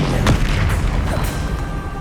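Bombarda explosion spell in the Hogwarts Legacy video game, a dense rumbling boom with a couple of sharper blasts layered over sustained low roar throughout.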